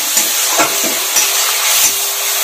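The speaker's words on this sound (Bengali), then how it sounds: "এখন এগুলাকে দিয়ে একটু কষাবো।" Chopped tomato and slit green chillies sauté in a pan for a Bengali radish curry, a loud steady sizzle broken by a few stirring scrapes, no talking.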